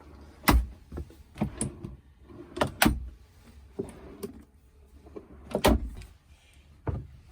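Storage drawers in a Thor Scope RV slide open and shut with a series of sharp thuds and knocks, several close bangs spaced irregularly with quieter rattles between.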